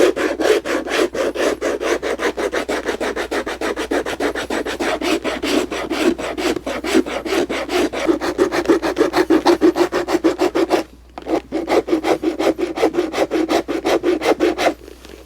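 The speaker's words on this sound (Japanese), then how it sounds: "次はヤスリで削っていきます。" A rasp files the sole edge of a Tricker's leather shoe in fast, steady back-and-forth strokes, close and loud, with a brief pause before the rhythmic scraping resumes.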